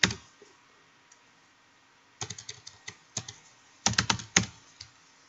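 Bursts of typing on a computer keyboard as a spreadsheet formula is entered, close and crisp, with a quiet pause before quick clusters of keystrokes.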